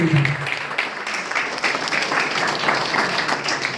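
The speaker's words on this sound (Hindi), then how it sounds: "सबसे जोरदार तालियां, जबरदस्त तालियां" A seminar audience in a hotel hall claps enthusiastically for business achievers, a thick, sustained burst of many hands applauding loudly and evenly, with a brief voice at the very start.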